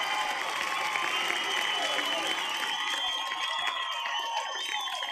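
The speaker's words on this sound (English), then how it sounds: "Come on, round of applause for Green Day." A crowd applauds and cheers for Green Day, a steady wash of clapping and shouts with a few higher voices and whistles rising above it, continuous and fairly close throughout.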